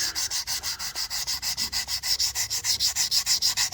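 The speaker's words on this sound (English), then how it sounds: "So I'm gonna try to erase those by sanding them out of there." Steady rhythmic sanding of curb rash on a car wheel, a rapid scratchy rasp pulsing several times per second, close and continuous with no voices.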